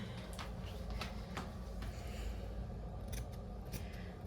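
Scissors trimming the seam allowance on a hoodie shoulder seam, giving several sharp close snips at uneven intervals over steady background noise.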